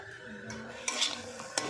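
Chana omelette mixture with mint and lemon juice being stirred in a pan with the heat off, giving soft scraping strokes and two sharp utensil clinks against the pan.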